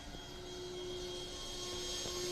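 Hangar 9 OV10 Bronco RC model plane coming in to land over a yard, a steady droning engine whine with a sustained tone, fairly loud and continuous throughout, no voices.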